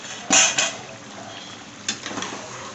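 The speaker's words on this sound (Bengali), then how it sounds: "এবার এই ভেজে রাখা মাছগুলো দিয়ে দেবো।" Fried rohu fish pieces go into a pan of cooked-down potato and pointed gourd, making one sharp clatter and sizzle burst followed by a quieter scrape and clink a moment later, close by and with no talking.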